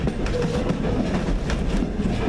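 A Strasburg railroad passenger train rolls along with a steady rumble and rhythmic clickety-clack of wheels over rail joints, heard from inside a car without any talk.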